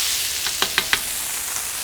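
Shrimp going down onto a hot Solo Stove SteelFire griddle, giving a steady sizzle with three quick crackling pops as pieces hit the metal, close and moderately loud with no talking.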